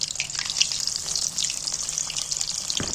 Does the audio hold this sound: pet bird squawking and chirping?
no